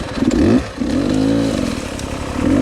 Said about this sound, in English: I hear their bikes going off